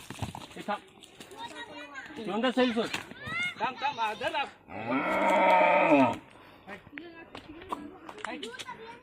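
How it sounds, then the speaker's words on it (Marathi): A bull in a house courtyard in Ratnagiri, Konkan, lets out a long, loud moo in the middle, surrounded by people talking nearby. "शेवटी घराच्या अंगणात बैल"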